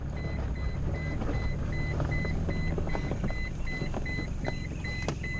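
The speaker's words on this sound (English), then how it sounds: "I don't know what's beeping at me." A repeated electronic warning beep sounds from a vehicle's cabin at a steady, regular rhythm during an off-road climb in a 4WD mountain park, over a constant low engine rumble and jostling clunks.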